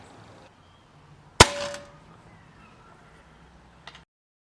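A Hatsan AT44-10 air rifle fires an 8.4 grain Air Arms Diablo field pellet over a chronograph: one sharp, loud crack with a brief ringing tail, then a faint click a few seconds later in a quiet room.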